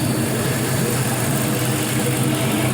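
A 5.3L LS engine with 140,000 miles runs at a steady warm-up idle, a loud, close, even rumble with no breaks.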